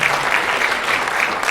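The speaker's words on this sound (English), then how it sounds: "please give yourselves a big round of applause" Conference audience applauding themselves at a leaders' communication event in the Philippines, a steady wash of many hands clapping throughout, loud and even without any voices over it.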